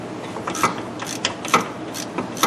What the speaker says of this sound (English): we'll just ratchet that right out of there. It's just so much easier with an impact gun